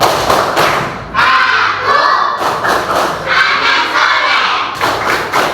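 Classroom of Indonesian Islamic school children performing the rhythmic clapping chant tepuk anak soleh, loud group shouting in unison with bursts of clapping and thumps, coming in repeated phrases with short breaks.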